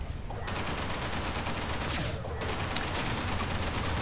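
Rapid shotgun blasts from Outlaw Chiefs in the space-combat game Everspace pound as a dense, continuous barrage of gunfire, loud and close, with no pauses between bursts.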